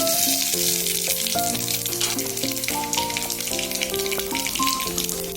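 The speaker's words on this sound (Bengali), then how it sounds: "রাঁধুনিটা আমি ফোড়ন দিই" Radhuni seeds temper in hot white oil in a pan, giving a continuous, close bright sizzle and crackle that holds steady throughout, with music playing alongside.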